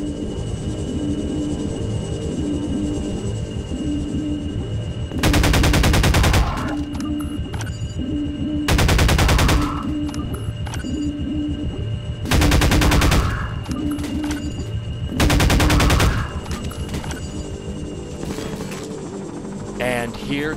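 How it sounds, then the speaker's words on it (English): Combine gunship from the game Half-Life 2 firing its guns in four loud, roughly one-second bursts, set against a constant droning engine hum and background game sounds. "And here comes the bad boy, everybody, a Combine gunship."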